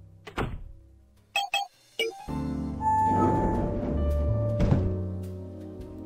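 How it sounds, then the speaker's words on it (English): A stairwell door in the video game Blackwell Deception opens with a thunk and a few short clicks, followed by a low sustained hum and rumble of ambience that swells and lingers. "It's the door to the stairwell."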